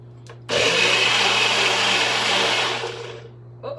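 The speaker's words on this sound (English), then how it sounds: "So now I'm gonna try to blend this all up and hopefully not make a mess." A NutriBullet blender whirs loud and steady as it blends a smoothie, starting abruptly and running about two and a half seconds before tapering off, with a soft hum beneath.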